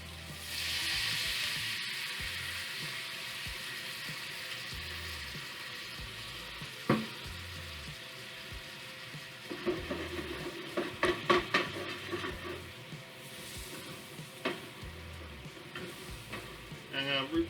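Wine is poured into a hot pan holding a cauliflower steak, which bursts into a strong sizzle that gradually settles, broken later by clinks and scrapes of a utensil against the pan.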